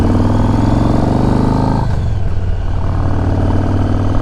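Yamaha Stratoliner 1900 motorcycle with a large V-twin engine, loud and close, holding a steady rumbling idle-like drone that shifts after about two seconds into a lower, rougher throb.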